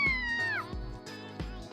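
A cat meows loudly and close up, one long drawn-out meow that bends downward in pitch, followed by a couple of shorter cries, with faint background sound underneath.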